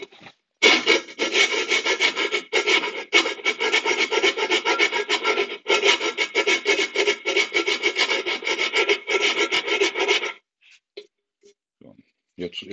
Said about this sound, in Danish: Jeg tror, jeg filer lidt